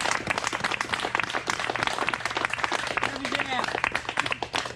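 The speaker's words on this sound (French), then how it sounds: "Cher ami, applaudissez." Guests at a family party applaud in a lively, continuous round of close clapping, with voices chattering and calling out through it.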